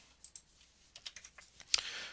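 Quick keystrokes on a computer keyboard as a short terminal command is typed, about a dozen light clicks in an uneven burst ending in a louder key press, heard close and alone.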